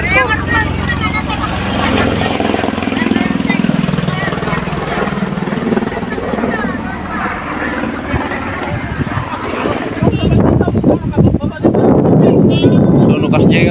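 A helicopter flies overhead during a maize harvest, its loud continuous rotor and engine roar filling the scene, with wind buffeting the microphone and a louder rumbling surge toward the end.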